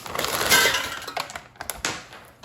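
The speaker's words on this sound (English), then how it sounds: "now I'm going to open a package of fries and just dump them in the air fryer" Frozen Trader Joe's sweet potato fries tipped from their package into an air fryer basket, a loose, rattling clatter of hard frozen pieces with crinkly bag sounds, busiest early and then trailing off into a few scattered knocks.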